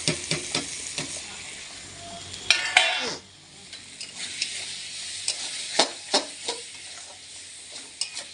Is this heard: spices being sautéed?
yes